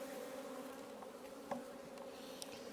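Honey bees buzz around an open hive in a bee yard, a faint continuous drone with occasional closer passes, alone without talk.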